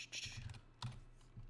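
Fingers tap on a computer keyboard while someone codes, giving short bursts of quick keystrokes with brief pauses between them, close and fairly quiet.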